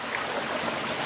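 Fresh mountain stream water flows steadily at the foot of a mountain, a dense, even rushing wash with no breaks, heard alone without voices.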